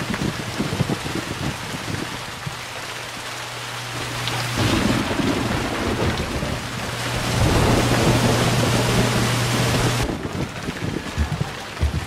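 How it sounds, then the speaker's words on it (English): Thunder from a lightning strike rolls and rumbles for several seconds over steady rain, with a low drone underneath and no talking. "Lightning strike."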